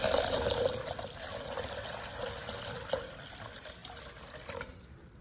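Water pours steadily over mung beans in a bowl, a continuous splashing, gurgling flow close by that runs for several seconds and then stops abruptly.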